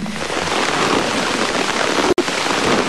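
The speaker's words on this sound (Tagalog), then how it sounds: "Ginising kami ng malalaking patak ng ulan kinabukasan." Heavy rain pours steadily over the Amazon rainforest in Brazil, a dense broadband hiss of drops drumming on surfaces, loud and unbroken apart from one very brief dropout near the end.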